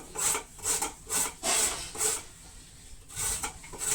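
Carrots rasped against a kitchen grater for carrot halwa, a run of quick scraping strokes in uneven bursts, close and fairly quiet with no talking.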